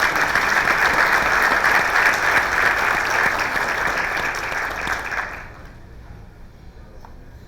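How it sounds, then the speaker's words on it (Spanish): An audience at a business conference panel on productive chains applauds the panelists, a dense, steady burst of clapping that fades out near the end. "Les pido un aplauso para los panelistas"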